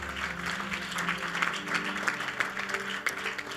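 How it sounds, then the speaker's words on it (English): Church audience clapping hands during a sermon, in dense, sustained applause across the whole stretch, with a voice and a tonal background underneath. "Clap your hands if you can."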